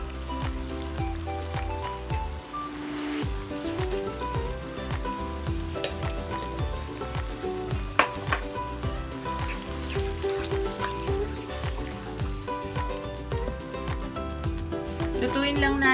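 Vinegar with tilapia adobo sizzles loudly in a pan, a dense continuous crackle dotted with sharp clicks and utensil scrapes, while soft music or voices hum faintly underneath.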